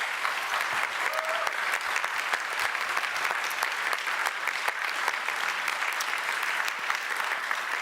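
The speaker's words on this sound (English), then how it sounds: "Please give a round of applause for our panel." Summit audience applauds the panel at a European political conference, a loud, continuous roar of many hands clapping close by, dense and even for the full duration with scattered sharper claps.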